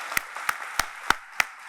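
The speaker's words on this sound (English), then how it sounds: "Please join me in a round of applause for family, friends, and shipmates" Applause from the audience at a Navy NPTU class graduation ceremony, sparse and thin, with about six distinct sharp claps spaced evenly across a short stretch under faint room noise.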